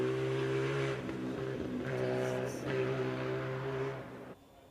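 A retro race car on skinny tyres with negative front camber drives fast past, its engine a steady loud drone with rising and falling pitch that fades away near the end; no voices.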